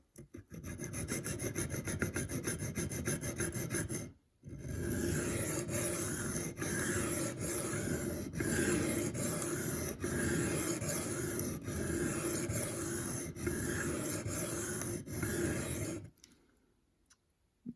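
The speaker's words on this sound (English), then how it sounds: "let me just get some sweeps in here, try and really hit that." A knife edge is swept repeatedly across a sharpening stone on a budget sharpening system, giving steady, close rasping strokes in a continuous rhythm with a short pause near the start, then stopping near the end.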